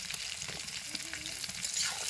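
Onion frying in hot mustard oil gives a soft, steady crackling sizzle with faint stirring, fairly quiet and close, with no voices.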